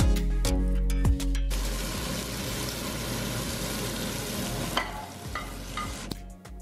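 Steak seasoned with salt and pepper frying in a pan, a few clattering knocks and then a steady loud sizzle that runs several seconds before fading, with more knocks at the end.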